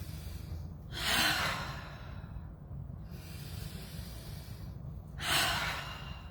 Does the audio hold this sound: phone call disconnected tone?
no